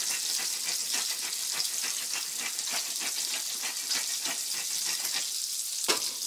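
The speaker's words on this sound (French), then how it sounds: "Je mets toujours de l'huile d'olive pour mes champignons." White mushrooms frying in olive oil over low heat, a steady close sizzle with dense crackling spatter throughout and a brief louder pop near the end, no talk.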